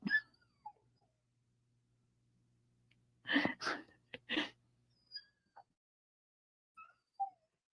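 Short, high whimpers and whines from a dog, a few faint cries spread out with a brief burst of louder snuffling noise in the middle, fairly quiet overall.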